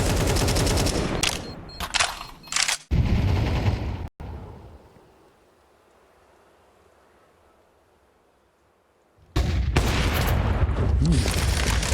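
Counter-Strike 2 gunfire in a professional esports match, loud bursts of rapid shots and booms at the start, a long quiet lull, then another heavy volley of shooting.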